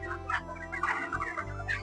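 Broiler chickens on a poultry farm cluck in a busy, overlapping chorus of short calls, close and fairly loud, with a steady low hum running underneath.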